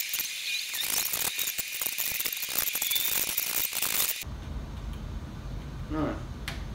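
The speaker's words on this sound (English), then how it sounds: "We're gonna attach the base, which goes like that, with the supplied Allen key and the supplied screws." Screws are driven with an Allen key to attach a speaker base, giving a close, rapid ratcheting tick that runs for about four seconds before stopping, leaving quiet room tone.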